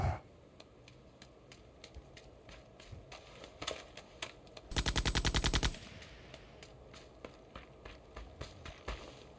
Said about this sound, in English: I don't know if that guy's shooting at me.